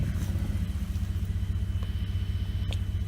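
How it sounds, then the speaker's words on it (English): A 2008 Ford Expedition V8 with upgraded intake and exhaust idles at about 500 to 600 RPM, giving a steady, deep, throbbing rumble that stays loud and close with no talk. "Idle is just like at the high 500s, early 600 RPM"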